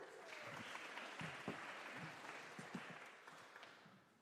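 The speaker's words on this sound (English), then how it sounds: "Give him a round of applause." Audience applause fills a church service hall, a sustained wash of clapping from many people that carries on steadily for several seconds at moderate volume.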